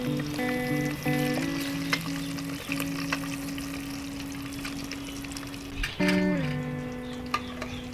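Eggs frying in hot oil give off a steady, close crackle and sizzle with scattered pops, then a couple of scraping clatters as they are lifted out of the pan, over a faint tonal hum.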